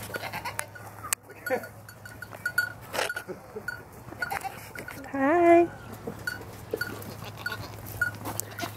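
A baby goat on a farm bleats once in a short, wavering cry partway through, close by, amid soft farmyard clatter and a person speaking in a cooing voice around it.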